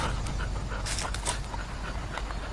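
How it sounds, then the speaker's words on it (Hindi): Dogs pant at the seashore with quick, breathy, rhythmic huffs, close and continuous over a noisy background. "जब जनरल वासु और उसके कुत्ते समुद्र के किनारे पहुंचे तो जनरल वहीं रुक गया"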